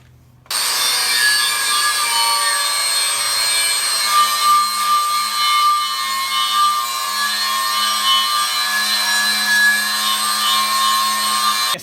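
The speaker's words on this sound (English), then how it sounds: "I like to use these polycarbonate wheels. They're really good for stripping the paint" A polycarbonate stripping wheel on a power tool grinds paint off a steel wheel before a weld-on beadlock installation. A steady, loud, whining abrasive drone starts after a brief pause and runs on unbroken.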